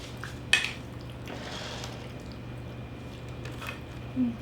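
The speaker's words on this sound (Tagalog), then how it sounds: "halo muna natin yung sisig" Sisig is mixed with utensils, giving a sharp clink of cutlery against a dish, soft squishy stirring, and another knock near the end, all at modest loudness over a low background hum.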